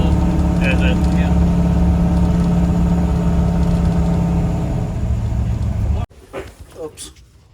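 A small block Chevy V8 idles steadily up close during carburetor adjustment, with voices talking over it, before the engine cuts out abruptly, leaving scattered handling noises.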